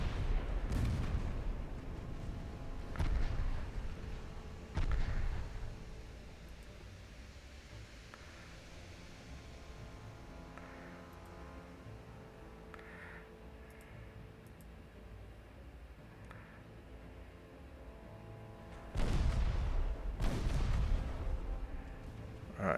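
Warship guns firing in the naval battle game Ultimate Admiral Dreadnoughts, Spain at war with Germany: deep rumbling booms cluster at the start, fade into a low distant hum, then another heavy salvo near the end.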